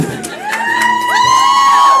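A small, intimate concert crowd cheering and whooping close by, a short burst of shouts and whistles that swells and holds.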